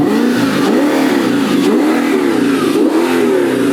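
An Audi R8 V10 sports car's engine revs hard and continuously, its pitch rising and falling in steady surges, loud and close with no talking.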